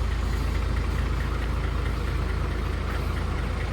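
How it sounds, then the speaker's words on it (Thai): Close by, the JO-family diesel in a Hino Victor 240 ten-wheeler ticks over at idle, a constant low-pitched rumble with a faint knocking pulse, alone and steady throughout. "ผมว่าเสียงเดินเบากระเพาะดี"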